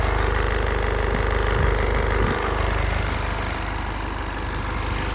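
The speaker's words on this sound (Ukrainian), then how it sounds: "Двигун працює чітко" A car engine idles steadily up close, a continuous low rumble with an even, throbbing pulse that barely changes throughout.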